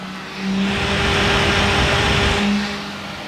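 A small Daiso handheld electric fan switched to its highest third speed, giving a steady, close whirring motor hum with a constant tone that swells in, holds for a few seconds, then eases off.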